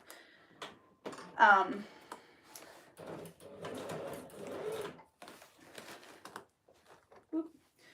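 A home sewing machine stitches a sequin mermaid tail in short bursts of rapid mechanical whirring and clicking, close by, with pauses and a voice talking intermittently between runs.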